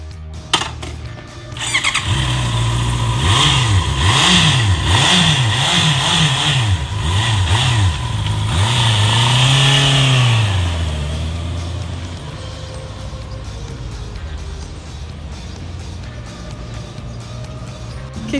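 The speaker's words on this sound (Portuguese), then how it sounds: "vamos ouvir o motor dessa moto." A 2020 Honda CB 650R motorcycle engine revs hard several times in quick bursts, rising and falling in pitch, then settles into a steady idle; loud and close, no talking.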